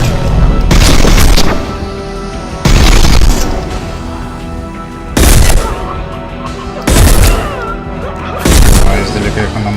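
Gunfire against snipers in the video game Mass Effect 2 comes as loud, close bursts of booming shots at a steady pace, five heavy volleys with ongoing combat noise between them.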